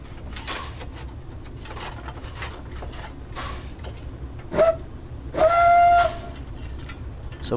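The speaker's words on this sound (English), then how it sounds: "So we're just pulling in, making sure that the entire train is on the Seabourne platform." A steam locomotive in Train Simulator 2017 on the Seabourne railway sounds two whistle blasts, a short one then a longer, louder sustained one, over a low rumbling rail background as it pulls into the platform.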